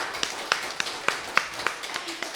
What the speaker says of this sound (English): So a round of applause for your learning partners